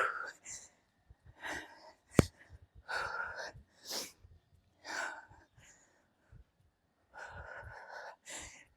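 After a weighted full-body HIIT workout, a person breathes heavily in close, rhythmic gasping exhales and sharp inhales separated by short pauses, with a faint thump in between.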